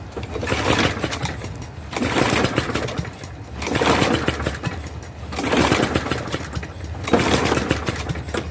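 A trash-picked lawn mower engine runs loud and rough, its rhythm rising and falling in surging pulses about every one and a half seconds, with no talk over it.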